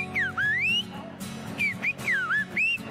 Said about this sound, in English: It's a language completely composed of whistles.